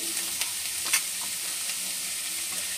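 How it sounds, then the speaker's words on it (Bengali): Chopped onion and tomato sizzle in a hot pan with a soft, continuous crackle and a few faint stirring scrapes, close up and with no voices. "পেঁয়াজটা দিয়ে ভালো করে ভাজা হয়ে গেছে"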